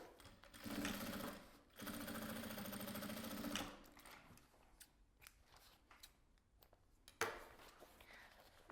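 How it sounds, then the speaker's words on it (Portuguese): Sewing machine running a stitch along a folded hem in bag fabric lining, two steady bursts of rapid mechanical whirring separated by a short pause, then quieter handling clicks and another brief run. "Fiz uma bainha. Passo uma costura."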